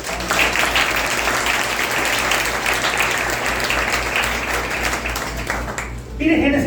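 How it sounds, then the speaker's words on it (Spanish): A church congregation applauding, dense continuous clapping filling the room at a steady level before cutting off near the end. "Denle un aplauso a Cristo, ya."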